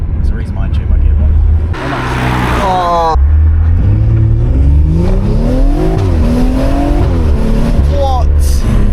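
An old BMW engine revs hard and climbs through its first gear shifts, with rising sweeping pitch and brief drops at each shift, loud and close, while people talk over it.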